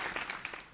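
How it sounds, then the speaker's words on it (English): An audience applauds at a company anniversary show, a short burst of dense, steady clapping from a crowd. "So big applause for you."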